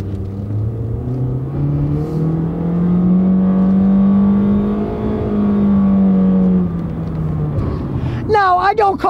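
A Honda car with a CVT transmission accelerates from a stop, its engine drone rising in a smooth, steady pitch sweep that holds and then eases. A brief burst of other sound comes near the end.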